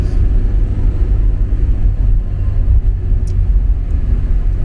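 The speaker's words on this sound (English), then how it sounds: "I think the valve clearances probably need some work. It's ticking away, but it's not too bad." A stock 1982 Porsche 944 with a 2.5-liter four-cylinder idles steadily up close, a loud continuous low rumble with a light ticking from valve clearances that need adjusting, no voices.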